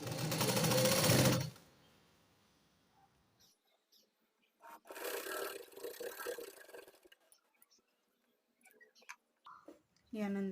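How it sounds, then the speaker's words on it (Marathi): A sewing machine stitches folded fabric in a burst that opens the clip, then runs again in a longer middle stretch, with quiet gaps and small handling noises between. "अशा पण प्रकारे दुमडून परत एकदा दुमडायचं आणि शिलाई द्यायची"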